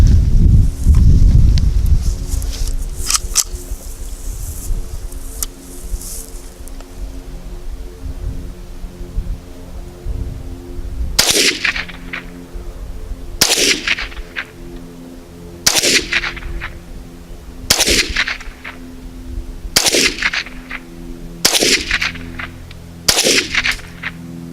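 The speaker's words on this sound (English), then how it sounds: "I'm shooting at 25 yards" A Ruger 10/22 Compact rifle fires at 25 yards: seven sharp, fairly close reports spaced about two seconds apart, after some rustling and handling noise at the start and no speech.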